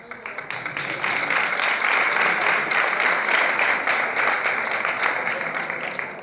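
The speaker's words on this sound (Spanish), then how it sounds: "creo que todos vosotros merecéis un gran aplauso por vuestra participación" An audience applauds the players at a padel tournament, a steady, moderately loud round of many hands clapping that swells after the first second, with voices mixed in.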